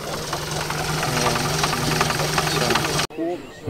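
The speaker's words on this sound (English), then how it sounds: "That's a great deal of engine." Engine of a 1922 Aston vintage racing car built for the TT, with a Shorrock supercharger and SU carburettor, running with a loud, rough, knocking idle that cuts off abruptly near the end.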